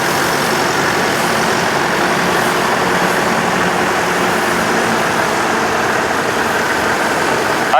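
A Massey Ferguson tractor engine runs at a hay baling demonstration, a loud, steady diesel drone throughout with no talk over it.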